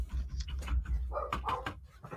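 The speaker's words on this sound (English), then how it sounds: "That dog is he's going nuts." A dog barks excitedly in several quick, loud bursts mixed with yips and whimpers, close by and with no speech over it.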